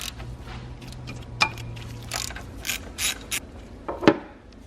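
Ratchet clicking and turning while loosening a 14mm banjo bolt on a BMW E46 M3 S54 VANOS oil line, close and fairly quiet, with intermittent metallic clicks and a few sharper taps of tools against metal.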